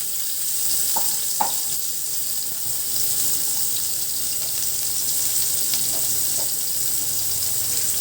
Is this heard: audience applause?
no